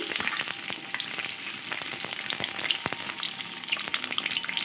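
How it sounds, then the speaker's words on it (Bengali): Raw, unboiled jackfruit pieces frying in hot oil, a dense, continuous sizzle and crackle heard up close with no voices. "তেল গরম হয়ে গেছে, এঁচোড়ের পিসগুলো দিয়ে এবার ভালোভাবে একটু নুন হলুদ দিয়ে ভেজে নেব"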